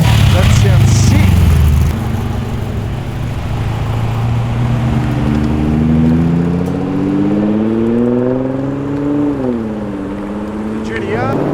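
A BMW street car drives past while leaving a car show in Tempe, Sydney, its engine note rising in pitch as it accelerates and then fading, loud and close, with people talking over it.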